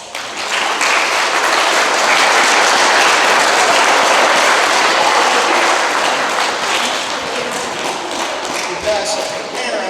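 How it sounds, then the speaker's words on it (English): Sustained applause from an audience honoring parents at a school Veterans Day program, loud, dense clapping filling the whole stretch and tapering slightly toward the end. "let's give them a round of applause"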